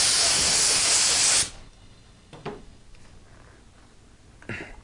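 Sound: spray gun spraying Tri-Clean cleaner through nozzle

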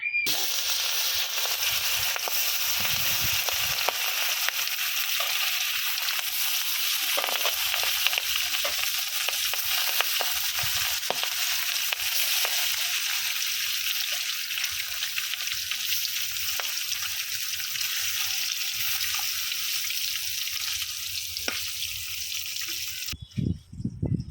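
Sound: fish frying in oil in a wok

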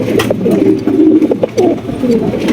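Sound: pigeons cooing

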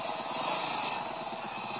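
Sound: engine of a Bajaj motorcycle-based bike ambulance

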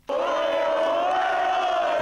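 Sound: Real Madrid fans cheering

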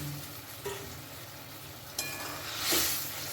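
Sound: fried fritters added to sizzling vegetable curry

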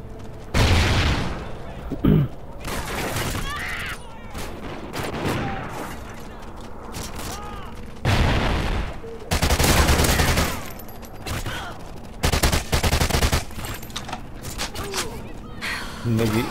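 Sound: gunfire in the video game Call of Duty Ghosts

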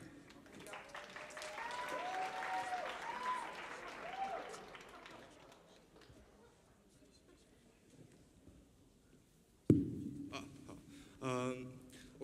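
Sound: concert audience applause

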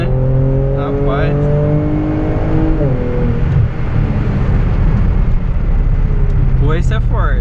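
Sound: Kia Stinger GT twin-turbo V6 accelerating

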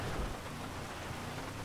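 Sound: rain from video game GTA 5

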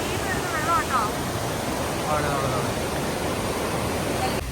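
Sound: waterfalls

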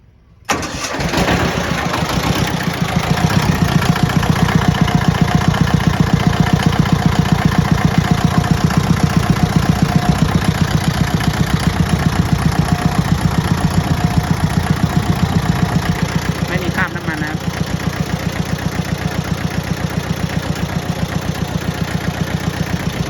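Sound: Hinomoto E14D 4WD tractor engine starting and idling

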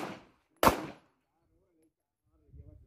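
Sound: rifle gunshot

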